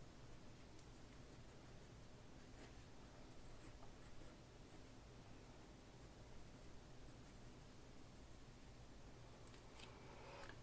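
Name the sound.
colored pencil drawing on paper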